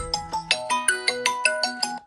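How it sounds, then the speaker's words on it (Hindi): A mobile phone rings with an incoming call, playing a bright, melodic ringtone of about ten quick, evenly spaced chiming notes, clear and close with no talking. "फोन आ रहा है"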